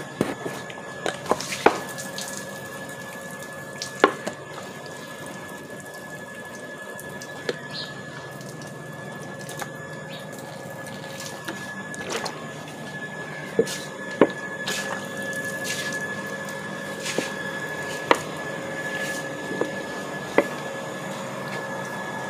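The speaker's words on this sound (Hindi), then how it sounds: "मैंने जो है वो पानी भी दे दिया है अपने पौधों को" Potted plants, including a money plant, are watered by hand: soft drips, squishy trickles and sharp little splashes recur irregularly over a quiet background, with occasional faint murmuring.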